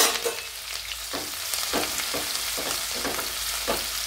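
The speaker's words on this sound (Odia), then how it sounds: "ଅଳ୍ପ ସମୟ ଭାଜିବା, ବେଶୀ ଭାଜିବାନି।" Garlic, green chilli and ginger fry in a small amount of oil, giving a steady sizzle that runs throughout, with soft rhythmic scrapes of stirring and no talk.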